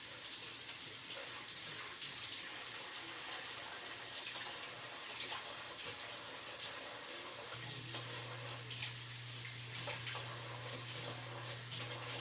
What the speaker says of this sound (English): So I have to rinse this stuff off.